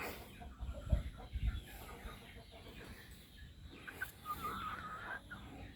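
A rooster of a Burmese breed clucks faintly in the background in short, scattered bursts over low ambient noise, with no talk.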